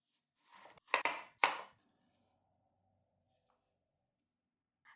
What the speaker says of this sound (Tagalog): Peel it, slice it into strips, pretend you're cutting like a pro